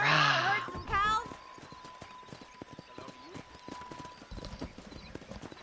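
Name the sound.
horse hooves in Red Dead Redemption video game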